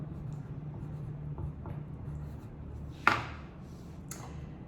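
A student writes a word on paper during a phonics lesson, making soft scratchy pencil strokes against a low steady hum, with a sharp tap near the middle and another faint knock later.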